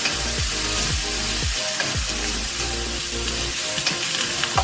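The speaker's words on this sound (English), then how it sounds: "Give that a stir once the pan's warmed up again" Stir-fry noodles sizzling steadily in a warmed pan, with repeated scraping strokes of a utensil stirring through the food at an even rhythm, close and fairly loud with no talking.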